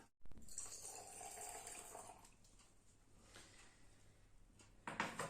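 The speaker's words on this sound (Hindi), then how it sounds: "ये देखिए, इतना जो पानी है ये मैं एक ढेर के अंदर डाल रहा हूं" Water splashes as it is poured onto a heap during a farm demonstration. A steady pouring rush is clearest early, then settles into a quieter trickle, ending with a short louder splash.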